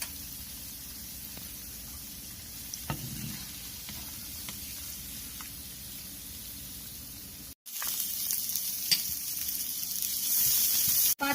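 Paneer cubes fry in a pan with a soft, steady sizzle and a few light clinks. After a brief cut, a louder, brighter hiss of frying takes over. No voices are heard.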